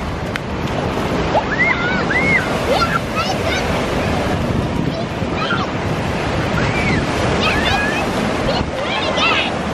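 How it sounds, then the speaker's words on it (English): Ocean surf rolling in on a beach at Sheboygan, Wisconsin, a constant loud wash of breaking waves with gusty wind buffeting the microphone and faint gull-like calls above. "Surf's coming in pretty good."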